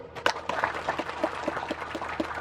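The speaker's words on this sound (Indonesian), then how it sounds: "Tepuk tangan." Crowd applause at a community recess meeting with a legislator in a village hall, a dense steady patter of many hands clapping at moderate loudness.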